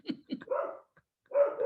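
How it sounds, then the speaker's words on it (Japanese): A neighbour's dog barks in a few quick, fairly close yaps, then a short pause and a longer, louder bark burst, with no talk over it. "隣の犬がちょっとうるさいんで"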